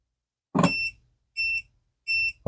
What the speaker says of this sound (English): see that slow beeping?